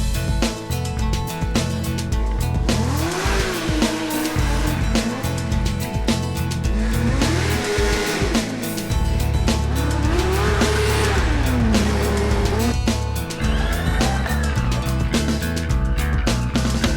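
K-Racing race cars at the KIT open house day roar loudly and continuously, engines climbing and falling through repeated revs with tire squeal mixed in, dense and close throughout.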